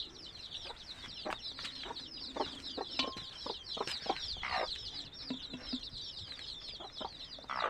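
Farmyard hens cluck and chatter in a busy flock, with overlapping short calls and scattered sharp clucks repeating throughout, close and fairly steady with no talking.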